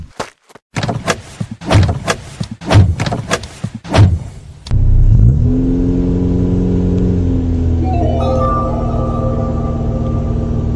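A cartoon car's engine turns over after a series of sharp door and key clunks, then settles into a loud steady idle hum that rises in pitch near the end, with no talking.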